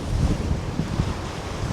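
Storm surge waves churn at Manasquan Inlet during a major nor'easter on the coast, a steady low roar of rough water mixed with heavy wind buffeting the microphone.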